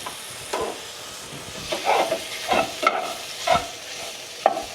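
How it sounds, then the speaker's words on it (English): A pot of meat in bouillon being stirred, with a run of scraping, sloshing strokes at an uneven rhythm over a soft steady sizzle, close and moderately loud. "just give it a little, just give it a little stir"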